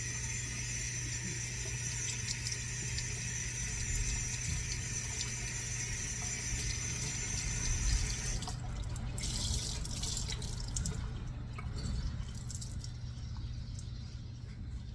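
Tap water runs steadily while a towel is rinsed under it, a continuous close splashing rush that turns rougher and more broken about halfway through.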